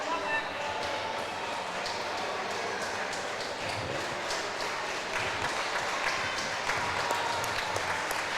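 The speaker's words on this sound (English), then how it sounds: "Folks, give a big round of applause for Axel Fury." Steady applause from a wrestling event crowd for Axel Fury, a broad continuous clapping wash lasting throughout, moderately loud with a voice faintly under it.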